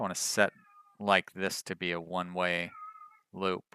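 A pet cat meows in the background during indoor talk, with short tonal meows between and behind a man's speech, moderately near.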